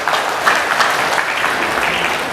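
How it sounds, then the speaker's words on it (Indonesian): Audience applause at a Maulid Nabi Muhammad SAW commemoration in Papua, a dense steady wash of many hands clapping throughout, moderately loud with no talk over it. "Tepuk tangan kita untuk beliau."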